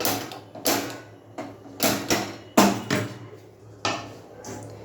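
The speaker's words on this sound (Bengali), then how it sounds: "এই দেখো কড়াই বসিয়ে নিলাম।" A metal kadai (wok) is set onto a gas stove with a series of sharp clanks and knocks, about eight separate impacts spread unevenly, near and fairly loud against a faint low hum.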